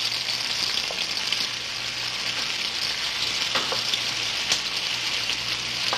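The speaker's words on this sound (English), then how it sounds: "So stir them nicely and mix the pepper with the onion." Onions and peppers sizzle steadily in a hot pan, a constant bright frying hiss with a few soft scrapes of stirring, close and with no voices.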